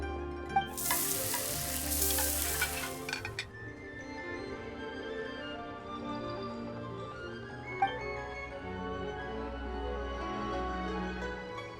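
Food sizzling on a pan in the video game Genshin Impact, a steady low crackle with a loud bright hiss burst early on and faint clinks scattered over the rest.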